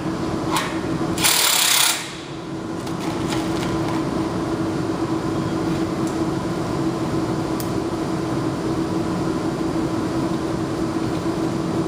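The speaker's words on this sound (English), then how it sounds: "We have pilot holes in the box bracket, so we're just going to be screwing onto that." A power screwdriver drives screws into pilot holes in a box bracket, with a brief loud burst of drill whine near the start followed by a steady mechanical hum and scattered faint clicks.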